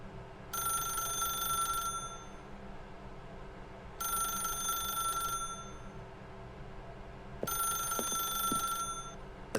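A telephone rings in The Stanley Parable: Ultra Deluxe, three separate electronic ringing bursts of about a second and a half each with pauses between, clear and steady over a low background hum.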